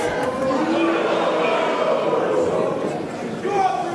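Arena wrestling crowd at a Progress Wrestling show roars and chants continuously as a dense, steady wall of voices, staying loud throughout with a brief swell near the end.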